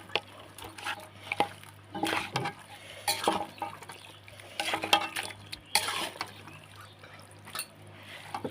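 Wet, squelching hand-mixing of large pieces of goat meat with salt and spices, continuous uneven rubbing and slapping sounds close up with no speech.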